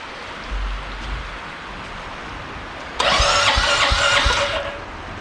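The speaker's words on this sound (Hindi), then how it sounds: "अब -7 डिग्री में अपनी बाइक स्टार्ट होगी या नहीं, ये बड़ी बात है।" A motorcycle cold-start attempt in snow at minus seven degrees: quiet outdoor hush, then a sudden loud engine-starter whir and cranking that runs steadily for about two seconds before cutting off.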